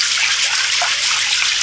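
Water splashing and trickling steadily while chicken feet are washed, a close, continuous hiss of running liquid with no voices.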